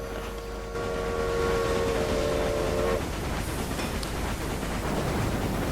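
Train running on rails in the video game Railway Empire, a steady rolling rumble with a sustained horn tone for the first few seconds, then continuous clatter with no talk.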